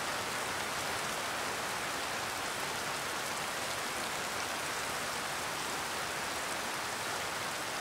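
Rain falls steadily in an unbroken, even hiss at moderate level, with no voices or other distinct sounds over it.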